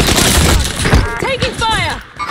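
Gunfire bursts in a battle royale video game, a couple of loud shots mixed with game sounds while players talk excitedly.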